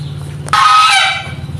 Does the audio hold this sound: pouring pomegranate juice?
no